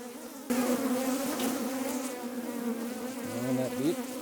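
Dense, droning buzz of many bees swarming close around an open city hive, a loud continuous hum that swells sharply at the start and holds steady throughout.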